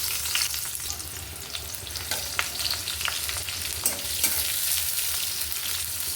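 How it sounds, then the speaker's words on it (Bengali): Chopped onion sizzling in hot oil with a mustard seed tempering, a steady close frying hiss with scattered crackles and pops, plus occasional stirring scrapes in the pan. "আমি যতক্ষণ পেঁয়াজটা ভাজছি"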